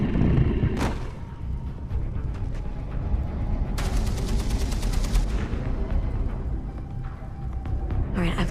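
A mounted machine gun in the game Beyond: Two Souls fires loud, sustained bursts of rapid rounds over continuous rumbling battle noise, with several sharp shots standing out.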